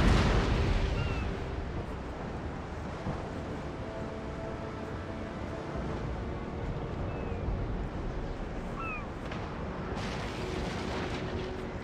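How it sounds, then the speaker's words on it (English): Broadside cannon fire from a fifth-rate sailing warship in the Empire: Total War naval battle, a steady roar of distant booming shots and rumble over a continuous battle din. "Not gonna stop my fifth rate from firing"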